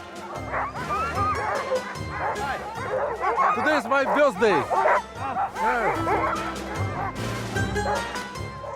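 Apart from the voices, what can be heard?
sled dogs barking and whining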